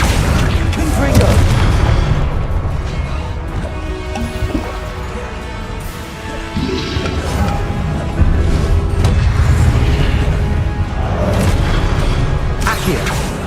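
Confringo fire spells exploding in the Hogwarts Legacy video game, a series of heavy booming blasts with deep rumble rolling over a dense, continuous background.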